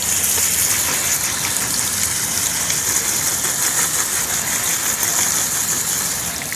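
Water gushes steadily from a tap or hose over aglaonema plant roots as they are rinsed, a continuous loud broadband splashing rush that holds unbroken for several seconds, close by with no voices.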